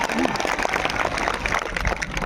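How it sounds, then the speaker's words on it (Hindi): Applause from a crowd at an outdoor political rally in Jharkhand, steady clapping running through the whole moment with voices mixed in over the noise. "इसीलिए जोरदार एक बार टाइगर के लिए आप सभी भी जो ताली लगाइएगा।"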